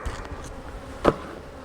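Honey bees buzz around an opened, somewhat defensive hive, a soft continuous insect drone with one brief louder pass close by, and no talking.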